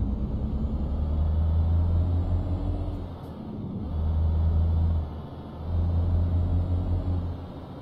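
A truck engine in Euro Truck Simulator 2 drones low and loud after dropping too many gears, revving in heavy sustained swells with brief dips between them.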